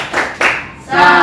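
Brief bursts of applause from primary school children in a fifth-grade Islamic school classroom, a few quick rounds of clapping close by, loud and short.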